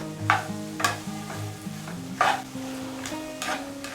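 Carrots seasoned with salt and turmeric are stirred in a pan with repeated scraping strokes roughly every half second, close and moderately loud, over soft steady background music.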